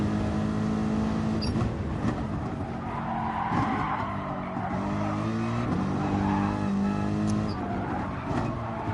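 Race car engine droning steadily on the Nürburgring GP circuit in a racing video game, with shifting pitch through gear changes and tire squeal, loud and continuous without any voices.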